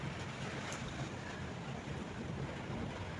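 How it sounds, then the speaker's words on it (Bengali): A wind and rain storm blows outside an open window, a steady broadband roar and rush that holds at one level for the whole stretch, with no voices. "আচ্ছা, হাওয়া বৃষ্টি আসছে।"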